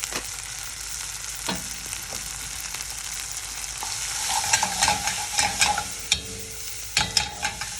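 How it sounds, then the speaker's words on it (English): Cannellini beans stirred and reheated in a pan for white bean crostini, a soft sizzle with scraping spoon strokes that grow busier and louder toward the end, no talking. "All we're really doing at this point is reheating the beans."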